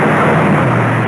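A 1961 Ford Thunderbird engine gives a loud, steady, broadband roar that stays constant throughout, with no voices over it.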